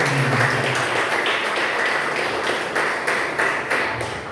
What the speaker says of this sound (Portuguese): E as palmas agradecem.